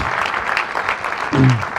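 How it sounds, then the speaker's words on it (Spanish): Church congregation applauding during a Spanish-language sermon, a short burst of dense clapping with a brief voice near the end. "Denle un fuerte aplauso a Dios"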